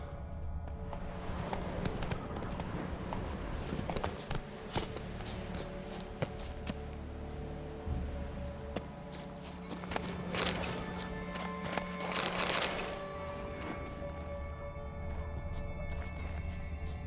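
Roach, a horse in The Witcher 3, clip-clops along with steady hoofbeats over a constant game soundscape, the footfalls fairly faint beneath ambient music and effects.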